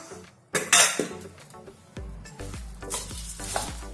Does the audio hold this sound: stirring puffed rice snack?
yes